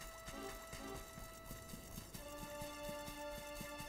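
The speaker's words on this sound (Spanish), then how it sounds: "¿Puedo llamar al caballo?" Horse hooves clip-clop in a steady, even trot in Dragon Quest XI, heard alone over game music and ambience, with a few brief whinny-like tones near the start.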